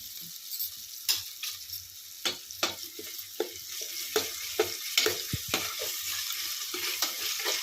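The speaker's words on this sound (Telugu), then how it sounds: "ఇది కొంచెం పచ్చి వాసన పోయేదాకా వేయించుకొని వేయించుదాం ఫ్రెండ్స్" Ginger garlic paste frying in a pan for rava biryani, a bright hiss running throughout with regular spatula scrapes and taps landing roughly every half second, close and moderately loud.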